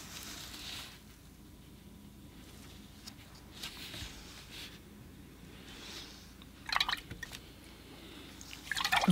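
A watercolor paintbrush is swished and rinsed in a water jar, giving soft intermittent sloshes and drips with quiet gaps, ending in a couple of brisker splashy stirs close by.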